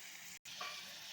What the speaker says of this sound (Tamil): இந்த எண்ணெயிலே நல்லா நம்ம கோவக்காய் வந்து வதங்கட்டும்.